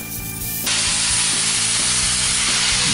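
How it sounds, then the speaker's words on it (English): A power grinder bites into the front of a small welded metal figure, a loud continuous abrasive rasp that starts abruptly after a brief quieter lead-in and holds steady at close range. "Now we got to grind a little off the front so it sits nice and flat."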